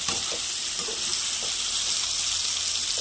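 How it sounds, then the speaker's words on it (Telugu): Eggplants cooking with tamarind leaves in a pan give a steady, close sizzle and frying hiss throughout, with a few faint stirring touches and no talk. "కాయ ఉడికే టైంలో ఎలా ఓపెన్ అవుతుంది చూడండి ఎంత బాగా."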